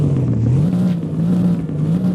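A Mercedes-AMG GT R engine accelerates, its loud close drone rising and falling in pitch in smooth waves with no talk over it.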